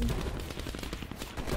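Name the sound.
War Machine weapon firing in a video game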